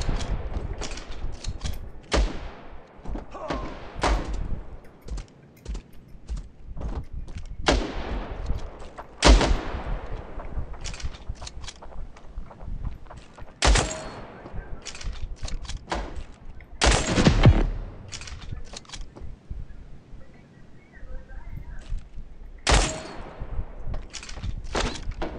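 Repeated gunfire cracks out in irregular bursts in the video game Standoff 2, sniper battle mode, loud sharp shots with echoing tails scattered over a continuous background of battle noise.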